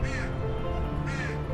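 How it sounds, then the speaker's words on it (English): A young crow caws twice, loud and close, with a steady low hum of outdoor ambience underneath, during a road trip through the American West. "There's a little baby crow up there, and he's very noisy."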